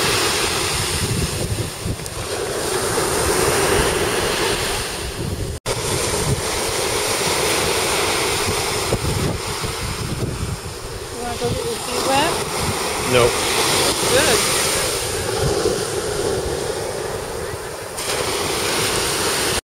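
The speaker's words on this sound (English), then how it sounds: "Rough right there on that point where this ocean meets the other ocean" Rough ocean surf breaks off the point at Cape Fear near Bald Head Island, North Carolina, a constant roaring wash with heavy wind buffeting the microphone and a brief dropout partway through.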